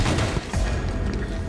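Grenade explosions in a Halo 5 multiplayer beta match come as a dense, loud barrage of booming blasts and crackling bursts, with no break in the din.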